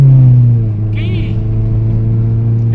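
A tuned-up big-body car engine idles and runs steadily on a test drive, a low continuous rumble close by, with a person talking over it.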